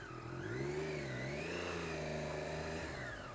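A Triumph Daytona 675R motorcycle engine revs up and down as it pulls away, a close, loud rising and falling whine with smooth pitch sweeps and no speech.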